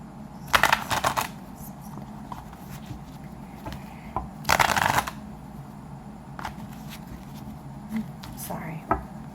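Tarot cards are shuffled in two quick riffling bursts a few seconds apart, followed by lighter handling and tapping, all close up while a person talks throughout.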